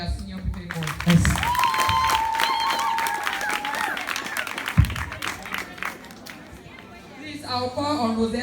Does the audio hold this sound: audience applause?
yes